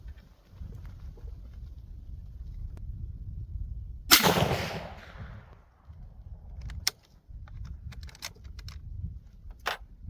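A single loud, sharp report from a Mosin Nagant rifle at an outdoor range, with a rolling echo trailing off, followed by quieter knocks and handling sounds.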